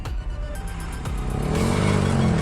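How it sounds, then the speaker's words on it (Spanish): Car tires squeal on asphalt as the vehicle slides through a tight curve toward a guardrail, a loud sustained engine roar with a rising tonal screech building in the second half. "Las llantas chillaron contra el asfalto y el coche se cruzó hacia el muro de contención."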